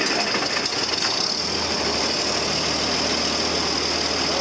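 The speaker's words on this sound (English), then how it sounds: "I'm gonna start this tractor up" A 4320 tractor engine runs with a loud, steady, close-up drone and a slight rough rattle after starting up, with no voices over it.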